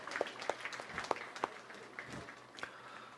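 A church congregation claps faintly in scattered, uneven bursts during a Sunday service, with a few distinct hand claps standing out above a quiet room.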